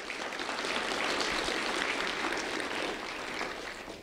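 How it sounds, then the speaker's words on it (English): An audience at a school award celebration applauds in a sustained, even wash of clapping that holds steady for several seconds before easing slightly at the end. "So a round of applause for all of them, please."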